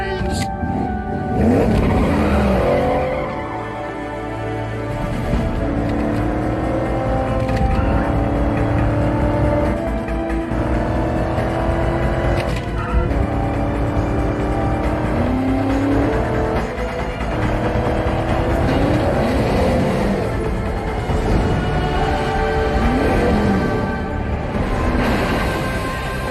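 Car chase in the Gone in 60 Seconds film: engines rev hard and accelerate over and over, tires squealing and skidding, a loud continuous roar with rising pitch sweeps for nearly half a minute.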